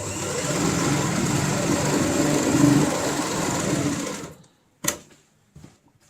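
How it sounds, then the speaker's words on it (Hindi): A sewing machine stitches a seam on a homemade ladies' tote bag, whirring steadily and close for about four seconds before stopping, followed by a few light clicks and handling noises. "तो यहाँ पे हम एक साइड से सिलाई की शुरुआत करेंगे।"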